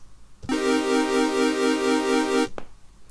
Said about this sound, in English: what happens if we change it to, for example, filter drive?